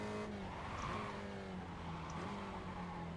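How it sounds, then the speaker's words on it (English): A Spec Racer Ford locks its tires under heavy braking into a corner at Tsukuba in iRacing, a sustained skidding squeal over the engine note, with quick pitch slides as the car scrubs speed. "Big lockup for me all the way into the brake zone"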